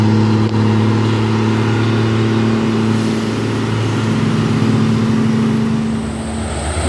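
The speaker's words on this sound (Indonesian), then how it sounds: "Raungan suara mesin, raungannya kuat sekali." A heavy road engine roars loudly and steadily up close on a mountain road where trucks pass, a constant deep drone with strong low harmonic hum and little change in level.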